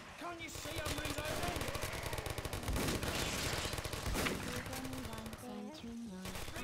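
Video game gunfire in Killing Floor, a zombie shooter: rapid, dense bursts of shots mixed with game music and effects, fairly quiet overall, with players chatting over it.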